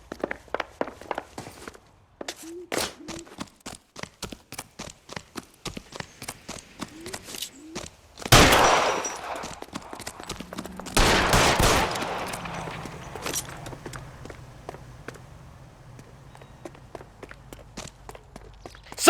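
Gunshots ring out in the detective game L.A. Noire after a long run of quick, even footsteps. Two loud, close blasts erupt partway through, each with a ringing tail, followed by a quieter stretch.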